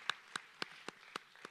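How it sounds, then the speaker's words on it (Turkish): About six isolated hand claps at a steady pace from a small audience at a Yörük gathering in Fethiye honoring a cura player. They sound thin and spaced out, quiet, with no other sound around them. "Alkışlıyoruz Ali Ultaş abimizi."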